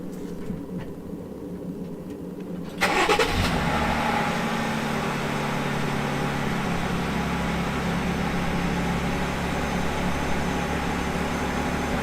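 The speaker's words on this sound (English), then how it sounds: "Start the truck, use your blinkers." A 2020-or-later Jeep Gladiator JT engine cranks and catches after a quiet stretch, then settles into a steady, loud idle rumble that continues to the end.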